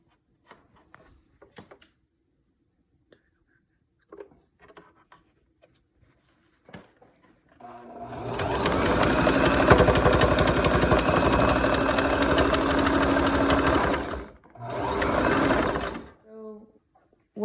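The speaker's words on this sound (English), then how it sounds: "you're just gonna place it under the machine, starting it at the very top edge, and you're just gonna sew all the way down" Stitching a fabric face mask from the top edge down, a sewing machine whirs in one long, close, steady run that briefly stops and restarts, following scattered quiet taps and fabric handling.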